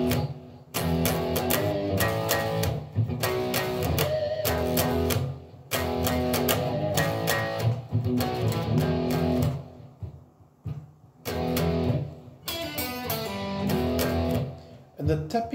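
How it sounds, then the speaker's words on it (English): A riff is played on an electric guitar with a bit of overdrive: loud, rhythmic chord stabs in repeating phrases separated by short pauses, with some light tapping underneath. "which should sound something like this with an electric guitar and a bit of overdrive"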